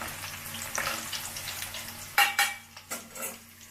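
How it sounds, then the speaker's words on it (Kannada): Poha (flattened rice) frying in hot oil for homemade khara mixture gives a steady close sizzle, broken near the end by a few sharp clinks and scrapes of a spoon against the pan. "ಅವಲಕ್ಕಿ ಕರಿತಾ ಇದ್ದೀನಿ ನಾನು ಹಾಕ್ಕೊಂಡು ಸ್ವಲ್ಪ ಸ್ವಲ್ಪನೂ ಈ ಥರ"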